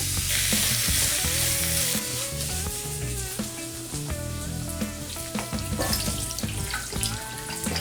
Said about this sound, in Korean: 삼겹살 기름이 나오고 있어요.